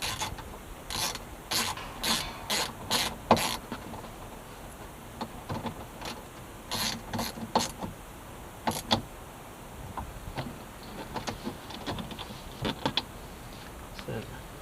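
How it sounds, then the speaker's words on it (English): Tightening a hexagonal nut on a Land Rover Defender door, a string of quick close ratcheting clicks in short bursts with pauses between, fairly quiet against the background. "line it up on that hexagonal nut, and then do the nut up."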